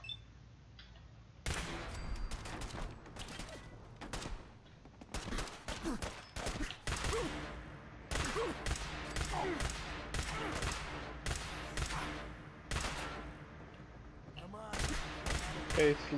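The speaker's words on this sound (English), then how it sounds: "Okay, it's a nice sound from the gun." Rapid gunfire from a gun in the video game Fallout 4 during an ambush, with repeated sharp shots and bursts over a game background and a voice talking.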